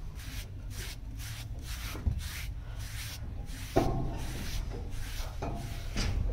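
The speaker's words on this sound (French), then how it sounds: "Je redonne un petit coup de brosse avant de le recouvrir" A brush strokes a sweaty horse's coat in a steady, repeated rhythm of close, rough rubbing swipes, about two per second, with a few slightly heavier strokes along the way.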